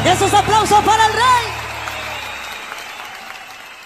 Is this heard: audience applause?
yes